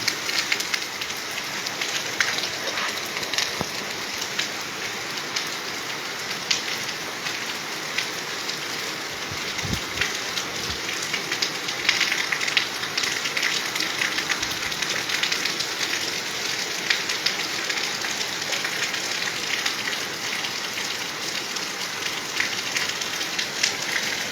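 The first monsoon rain falls steadily over a Malwa village in Punjab, a dense, continuous hiss of drops on surfaces, close and unbroken throughout with no voices.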